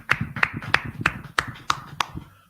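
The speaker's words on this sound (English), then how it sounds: "Clap it up, y'all. Clap it up. Clap it up." A small group claps hands at a brotherhood class in Durham, North Carolina, with about seven loud, close, roughly evenly spaced claps over a background of low voices.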